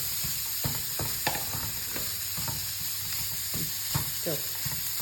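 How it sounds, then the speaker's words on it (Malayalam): Grated coconut and shallots crackle as they roast in a pan for a mango chutney, a soft steady sizzle punctuated by frequent stirring clicks and scrapes, fairly close and moderately quiet. "അതിനുശേഷം അതിൻ്റെ മേലേക്ക് ഈ തേങ്ങയും കൂടെ ഇട്ടിട്ട് ചെറുതായിട്ടൊന്ന് മൊരിയിച്ചെടുക്കാം"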